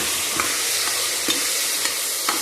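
Potatoes fry in a pan under a dense, constant sizzle, with short scraping strokes of a spatula stirring them at a roughly even pace, close up and with no talking.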